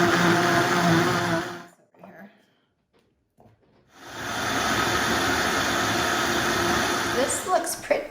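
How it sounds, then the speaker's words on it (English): A blender liquefies chopped jalapeno peppers with white vinegar in a loud whirring burst, stops briefly for a quiet moment with small clatter, then whirs again steadily to the end. "put them in the blender and add a cup of white vinegar, and we're supposed to liquefy it"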